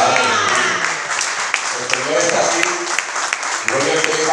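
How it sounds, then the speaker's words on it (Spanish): A church congregation applauds during a Spanish-language service, a dense crowd clapping under a voice speaking over it. "Denle un aplauso al Señor en esta tarde."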